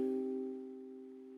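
A single sustained minor chord rings out on a keyboard, struck once and slowly decaying, with no one speaking.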